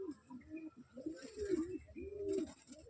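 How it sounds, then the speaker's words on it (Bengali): Pigeons in a crowded loft coo in repeated low, rolling calls, several birds overlapping close by with faint rustling around them. "ঘরেতে পায়রা দেখুন, পায়রা ভর্তি হয়ে গেছে পুরো"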